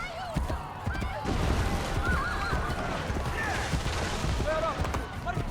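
Horse neighing in the video game Assassin's Creed Brotherhood, a few shrill whinnies rising over a busy bed of clip-clopping hooves, crowd murmur and game noise, with speech mixed in.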